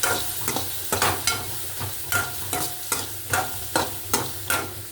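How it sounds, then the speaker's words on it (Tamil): Tomato, onion, green chili, chana dal and urad dal sautéing in a pan for chutney, with rhythmic spatula scrapes and stirs about twice a second over a low continuous sizzle. "இந்த மாதிரி தக்காளி வெங்காயம் பச்சை மிளகா கடலைப்பருப்பு உளுந்து இப்படி போட்டு பொன்னிறமாக வதக்கணும்"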